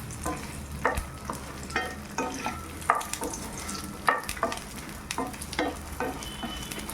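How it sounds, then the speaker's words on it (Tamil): Garlic and dried red chilies with stems dry-roasting in a pan for a pirandai podi and idli-dosa spice powder, heard as a steady rhythm of scraping stir strokes with a light sizzle and no talking. "இப்போ பூண்டும் காஞ்ச மிளகாயும் நல்லா வறுந்துடுச்சு."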